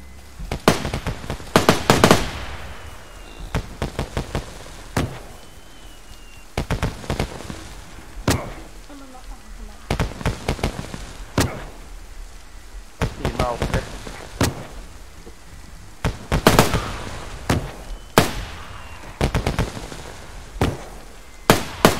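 Gunfire in the video game DayZ, loud sharp shots in bursts and single cracks scattered across the stretch, close and punchy, with a voice speaking briefly between shots.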